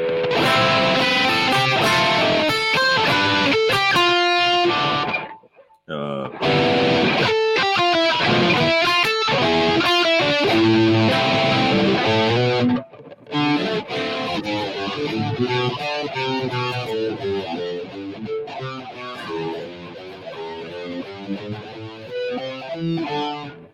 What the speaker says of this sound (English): We'll have to do some chord melody stuff